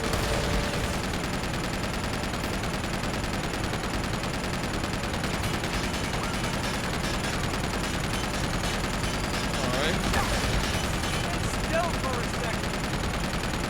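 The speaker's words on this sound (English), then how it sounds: "maybe I need to shoot down the missiles as they're coming my way" Sustained gunfire in the action game Uncharted 2, a continuous busy stream of shots firing at incoming missiles, mixed with game noise and a voice talking underneath.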